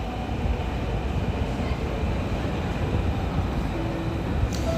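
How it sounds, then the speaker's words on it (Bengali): Dhaka metro train pulling into a station, a loud continuous rumble and hiss of the train running at a constant level, with a faint chime near the end. "মেট্রো চলে আসছে, উত্তরাগামী মেট্রোটা চলে আসছে"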